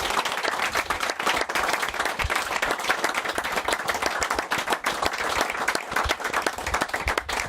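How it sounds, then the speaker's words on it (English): Steady audience applause and clapping for footballer John Wark at a 50th anniversary celebration, a dense continuous wash of many hands sustained for several seconds at close range with no talk. "Give him a big round of applause, everybody"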